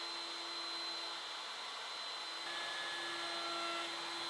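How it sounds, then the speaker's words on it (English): A router fitted with a 45-degree chamfer bit makes light passes along the edges of a wooden drill press table, a steady high whine with a constant tone that holds evenly throughout. "I also replaced my flush trim bit with a 45-degree chamfer bit, and I'm going to give each edge on each face just a light pass."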